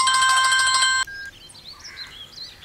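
A phone ringtone for an incoming call sounds as a bright electronic tone for about a second, then cuts off abruptly, leaving faint chirpy background sounds.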